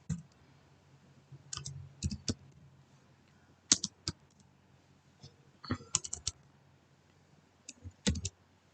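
Bursts of fast key clicks on a computer keyboard as code is typed, clustered in short runs separated by quiet pauses, close and fairly soft.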